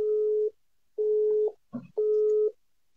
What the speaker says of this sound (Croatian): I dalje je zauzeta.